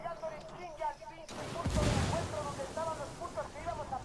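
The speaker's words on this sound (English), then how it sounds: "Grenade." A grenade explosion and gunfire in the tactical shooter Ghost Recon Wildlands: a sudden deep boom cuts through the scene with crackling shots around it. Voices talk before and after the blast.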